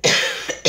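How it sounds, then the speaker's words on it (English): Two sharp, close coughs from a woman, a long rasping first burst followed shortly by a second short one, alone with no talk around them. "I had this bad cough."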